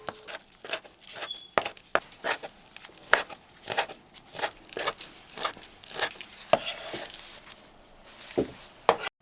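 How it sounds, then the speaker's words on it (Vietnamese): A knife chops on a cutting board as shrimp are smashed flat and roughly minced for Vietnamese fried spring rolls, giving a close, irregular series of sharp thuds and crunchy taps with no talking. "Mình sẽ đập dẹp rồi bằm sơ."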